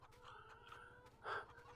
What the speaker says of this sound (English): Chickens here.